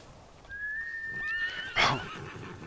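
A single horse whinny in a video game, after the horse is accidentally hit, rises and then ends in a louder snorting burst, fairly clear against a low steady background hum.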